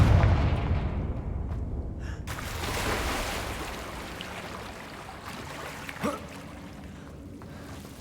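Fiery Confringo spell blasts in the video game Hogwarts Legacy, a heavy booming burst at the start followed by a rolling rumble and a sharper crack later, all fading into quiet ambience.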